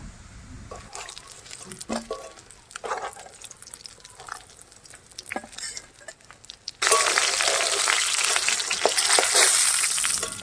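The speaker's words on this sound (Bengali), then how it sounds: "একে একে সব মাছগুলো ভেজে নেব" Rohu fish pieces fry in a pan with intermittent crackles and stirring clatter, then a loud, dense sizzle erupts suddenly as more pieces go into the hot oil and holds steady.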